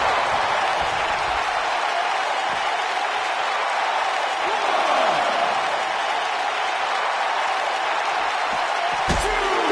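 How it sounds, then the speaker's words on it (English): A raucous arena crowd roars steadily throughout an ECW wrestling video game match set in Philadelphia, a dense continuous wall of cheering with a sharp impact near the end and no clear talk. "We've got a raucous crowd here in Philadelphia tonight"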